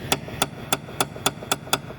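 A hammer drives a center punch into the cotter pin of a 2012 Toyota Matrix front wheel hub, giving seven sharp metallic taps. They are evenly spaced about a third of a second apart and are heard up close with no talking.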